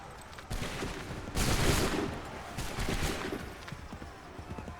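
Musket volley fire in Assassin's Creed III, several broadband bursts in a row, moderately loud, with the last volley a second later over a crackling, noisy battlefield background.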